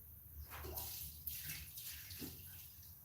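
Water poured from a tube into a drywall mud bucket, a soft continuous splashing pour heard up close at low level, with no talking.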